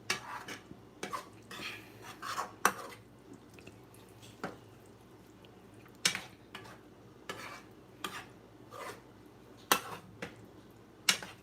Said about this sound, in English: Let me stir it up again.